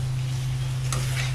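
Fried potatoes stirred into a sizzling pan of spiced dum aloo, a continuous crackling fry with a soft scrape of stirring and a steady low hum underneath.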